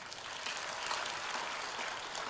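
A church congregation claps during a Sunday worship service to welcome newcomers, a dense, even wash of many hands sustained throughout, fairly loud and without talk.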